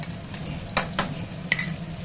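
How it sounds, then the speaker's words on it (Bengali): Taro stolons frying with garlic paste and chili powders in a pan, a low steady sizzle broken by a few scraping stirs of a spatula, close and quiet. "আর একবার ভালো করে নেড়ে নেবো"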